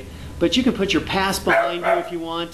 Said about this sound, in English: that's my dog there keeping me safe.